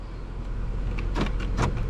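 A power door lock actuator in a 2014 Toyota Yaris with a faulty clock memory clunks twice in quick succession, close and fairly soft, over a faint cabin hum.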